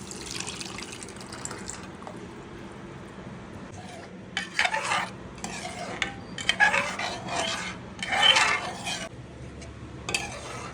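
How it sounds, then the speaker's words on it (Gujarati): Boiled dal is added to softened cooked tomatoes in a pot and stirred, with intermittent scraping, pouring and clinking sounds in uneven bursts, close and moderately quiet, with no talk. "હવે આપણે આમાં બાફેલી દાળ ઉમેરી લઈએ."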